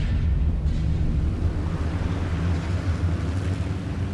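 A military landing craft moves through a Cold War submarine base, its engine a steady, heavy low rumble that fills the whole stretch, with wind buffeting the microphone and broad water noise on top.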